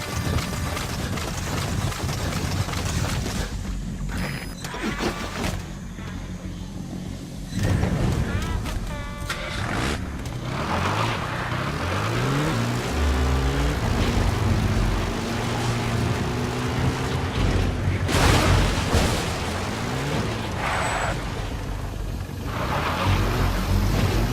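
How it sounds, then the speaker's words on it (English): Support helicopter arriving in the video game Metal Gear Solid V, a rising rotor and engine roar that builds through the scene, with a radio voice speaking over it. "Helicopter requested."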